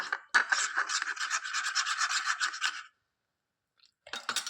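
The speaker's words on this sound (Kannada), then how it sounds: "ನೀಟಾಗಿ ಆ ಲಂಪ್ಸ್ ಎಲ್ಲ ಹೋಗೋವರೆಗೂ ನೀಟಾಗಿ ಮಿಕ್ಸ್ ಮಾಡ್ಕೊಳ್ಳಿ" A homemade face pack paste being stirred in a bowl to work out the lumps gives off a steady scraping, rubbing texture close up for a few seconds, then a pause and a brief return of stirring.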